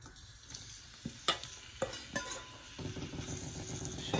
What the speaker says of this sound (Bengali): কড়াইয়ের মধ্যে ভেজে নিচ্ছি।